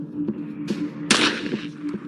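A gunshot in the Granny 2 video game: a short, sharp burst of noise over a steady low game hum, with a few smaller clicks around it.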